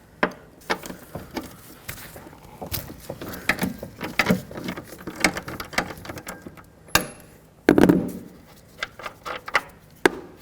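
Seat bolt nuts being unthreaded from a Chevrolet Express, irregular close ratcheting clicks and metallic taps scattered across the span, with a few sharper knocks and a brief rattling burst, no voices.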